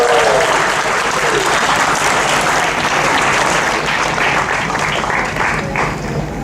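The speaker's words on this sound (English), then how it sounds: "Let's have a round of applause for each and every one of you." A large audience at a live event breaks into loud, sustained applause, a dense wall of clapping that holds steady and tapers slightly near the end, with scattered voices underneath.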